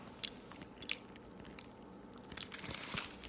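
Keys jingle and clink against the metal hooks of a Louis Vuitton six-key holder in Rose Ballerine leather. Several short metallic rattles sound close by at the start and the end, with quieter handling noise between them.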